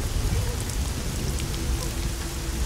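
Steady rain pours in the video game Hitman Blood Money, a dense, constant hiss and patter that fills the whole stretch without pause.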